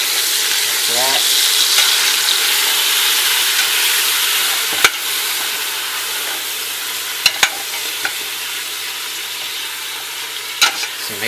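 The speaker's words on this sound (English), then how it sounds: "we want to add the onions as well. Just stir them a little bit, like that." Onions stirred and frying in a pot for Algerian chorba, a steady loud sizzle with occasional sharp clicks and scrapes of the spoon against the pot.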